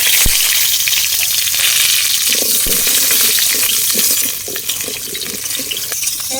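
Potatoes frying in hot oil in a home kitchen, a loud continuous hissing sizzle with a few clinks and stirring knocks partway through, close up and without talk.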